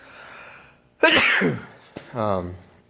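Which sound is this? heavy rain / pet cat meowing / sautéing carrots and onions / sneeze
sneeze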